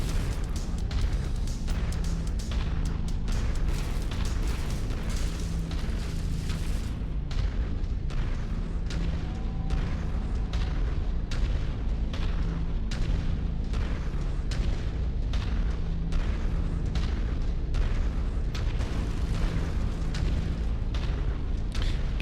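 A mech's autocannon hammers at a mountainside in MechWarrior 5: Mercenaries, with a long run of loud, evenly spaced heavy booms over a constant rumbling engine hum.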